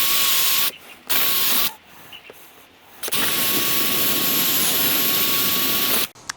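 A jigsaw cuts through plywood during a Ford Transit Custom camper conversion, running in loud whining bursts: two short runs, a pause, then a sustained three-second cut before it stops.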